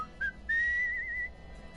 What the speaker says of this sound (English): My skeleton can whistle.